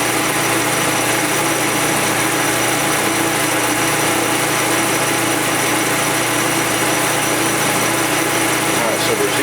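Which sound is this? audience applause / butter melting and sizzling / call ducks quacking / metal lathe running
metal lathe running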